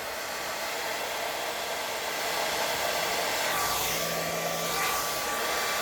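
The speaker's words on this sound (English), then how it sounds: "Hair dryer. Use my girlfriend's hair dryer." A steady, loud whooshing hair dryer runs continuously throughout while used on a scale model, with a slight shift in airflow tone partway through.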